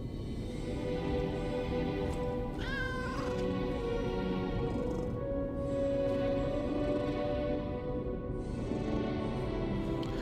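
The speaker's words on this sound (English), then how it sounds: "Oh, hello, pretty kitty." A cat meows in the video game Lies of P, giving one drawn-out, wavering cry over a steady droning game soundtrack.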